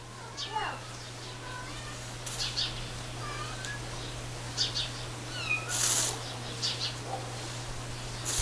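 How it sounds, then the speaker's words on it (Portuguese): A mother cat meows repeatedly in short calls, some high and drawn out, while people talk softly nearby over a faint steady hum. "É porque a mamãe gatinha quer levar o gatinho."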